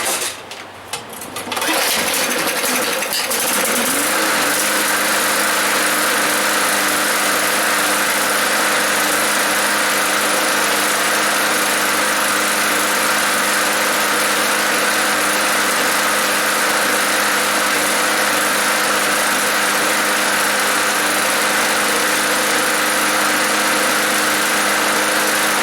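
A cheap Bolens push mower engine sputters to life after a brief start-up, then runs steadily at a loud, buzzing, even idle for the rest of the time, close by with no talking.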